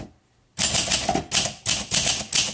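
A 1952 Olympia SM3 manual typewriter is typed on after a brief silence: a quick, close run of crisp key strikes in uneven clusters, with no voices.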